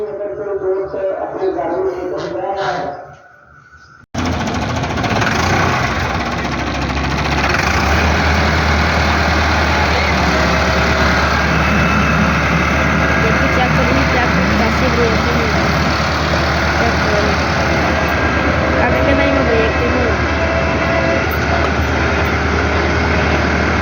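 A tractor engine idles with a steady, deep, continuous rumble that starts abruptly after a few seconds of other noise and holds close and loud to the end, with voices at times.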